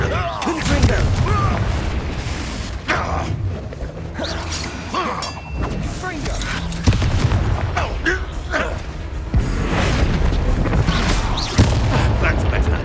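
Repeated Confringo fire-spell explosions in the Hogwarts Legacy video game, several loud booming blasts in quick succession over a dense mix of combat noise, creaks and game voices.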